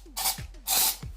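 Aerosol insect spray fired at a spider in two short hissing bursts, close and sharp, separated by a brief pause.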